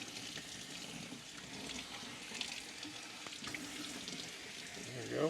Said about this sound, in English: I'm trying to rinse from the clean side to the dirty side